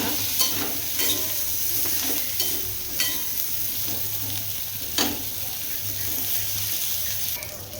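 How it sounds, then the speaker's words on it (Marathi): Stuffed ridge gourd masala is stirred in a pan: a continuous close sizzle runs under repeated sharp scrapes and clinks of a spoon against the pan. "आपण हे दोडका भरलेला मसाला त्या आपण टाकूया ह्यात ते बघा असा टाकायचा आणि चांगला मिक्स करायचा"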